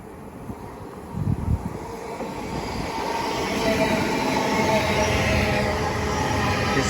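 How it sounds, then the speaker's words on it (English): Great Western Railway IET train passing through Didcot Parkway station on the Great Western Main Line, a rumble that builds from quiet into a loud, sustained roar with rolling wheel noise and faint high whine. "another Great Western Railway pair of IETs going from London Paddington to Cheltenham's Bar"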